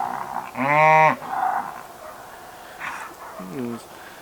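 A cow at a pasture moos loudly and at length, then a shorter, quieter moo follows a few seconds later against a quiet background.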